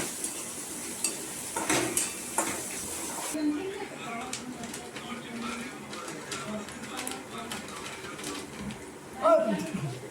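Egg bhurji being stirred in a pan with oil, a utensil clinking and scraping against the metal over a soft background sizzle, with a few sharper knocks and a louder clatter near the end; a voice is faintly present.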